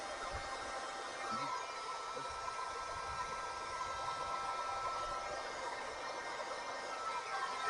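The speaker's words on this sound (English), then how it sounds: "Now I'm using an actual heating thing I picked up off eBay." A heat gun blows a steady, even hiss of hot air close up while warming the glue beneath a tape stripe so it can be peeled back. The hiss runs unbroken and alone, with no talk over it.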